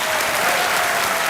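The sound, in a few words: studio audience applause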